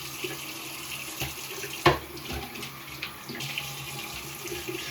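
Cold tap water runs steadily for rinsing during a beard shave, pouring into a sink with a continuous splashing hiss and one brief louder splash. No one speaks.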